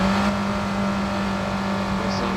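Lamborghini Temerario in the Driving Empire video game, engine held at a steady high drone while accelerating in fourth gear, loud and continuous with no talk over it.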